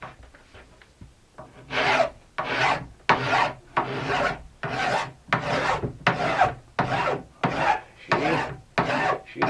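A hand file rasps along the aluminum sidewall of a sandwich-construction alpine ski, about ten strong, evenly spaced strokes following a few lighter ones, close and loud with no talking.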